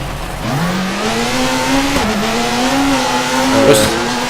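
Rally car engine in the WRC 4 racing video game, a loud steady drone that rises and falls in pitch as it shifts and accelerates, with a short tire scrub near the end.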